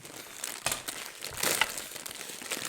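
Individually wrapped Christmas candy kisses being unwrapped, with sharp crinkling and rustling of the thin wrapper foil in irregular bursts, close and fairly loud, without talk.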